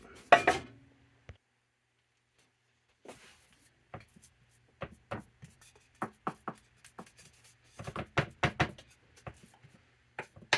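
A knife slicing a tray of date square brownies into pieces gives sparse, scattered taps and cuts against the pan, a few isolated clicks early, then clusters of sharp strokes, with quiet pauses in between.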